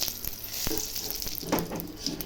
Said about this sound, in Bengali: তেলে শুকনো লঙ্কা তেজপাতা ফোড়ন দিয়ে দিচ্ছি